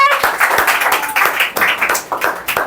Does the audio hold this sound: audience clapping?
yes